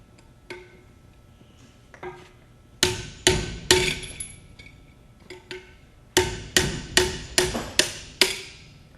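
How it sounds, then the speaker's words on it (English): A spanner wrench is worked on the outer lock nut of a 15-gallon accumulator during disassembly. A few isolated metallic strikes are followed by two close, loud runs of rhythmic hammer-like blows, each ringing briefly. "the technician is going to take the spanner wrench and loosen the outer lock nut"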